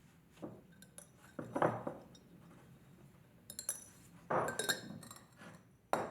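Fired sandy stoneware pottery lids lifted off their pots, giving several sharp ceramic clinks and scrapes in irregular bursts, close and crisp against a quiet room.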